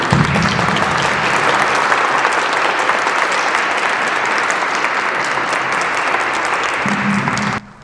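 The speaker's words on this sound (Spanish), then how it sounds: "Le damos un aplauso para la señora." An audience applauds a speaker at a lecture on sacred architecture and symbolism, giving dense, steady clapping for several seconds before it stops abruptly, with a faint voice at the start and the end.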